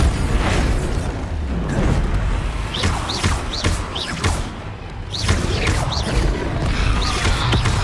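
Bombarda blasting spells in Hogwarts Legacy, a dense run of loud booming bursts and crashes over constant game combat noise with sweeping magical whooshes, several explosions landing in quick succession.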